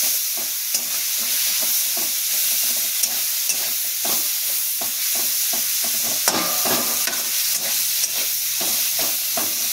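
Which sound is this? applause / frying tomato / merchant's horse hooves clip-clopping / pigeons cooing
frying tomato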